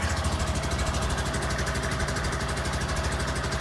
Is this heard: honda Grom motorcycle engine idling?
yes